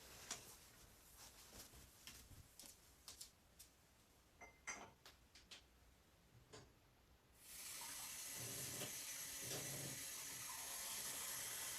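A tap runs to fill water for painting miniatures, first a few scattered ticks and drips over a low background, then a steady loud splashing stream of water into a container for the last several seconds.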